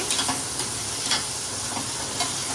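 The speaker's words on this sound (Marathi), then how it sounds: "आता परतत आहे फोडणीमध्ये" A soft, steady sizzle of rice and split mung lentils frying in oil with tempering spices, with occasional light stirring scrapes and clicks, no talking.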